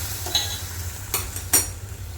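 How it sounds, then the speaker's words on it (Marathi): A spoon stirs semolina and milk in a pan, giving a few soft scrapes and light metallic clinks over a low, steady hum, with no one speaking. "दूध ॲड केलं की लगेचच रवा आपल्याला छान हलवून घ्यायचा आहे"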